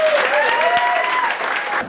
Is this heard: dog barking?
no